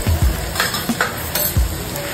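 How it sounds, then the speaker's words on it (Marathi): Turmeric and Agri masala sautéing in a pan over a wood-fired stove, a loud close sizzle punctuated by several quick spatula scrapes and knocks against the pan, with no voices. "छान परतून घ्यायचं आहे।"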